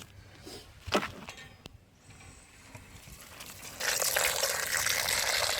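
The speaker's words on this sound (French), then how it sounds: "Puis là je vais rincer à l'eau claire." Clean water pours and gushes over brass cartridge cases being rinsed after wet tumbling. A few faint splashes come first, then a steady, louder rush of running water fills the last couple of seconds.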